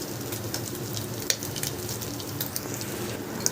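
Crushed coriander, curry leaf and dried red chilli masala sizzling in hot tempering oil, a steady close hiss of frying with a few sharp spits and utensil taps, no voices.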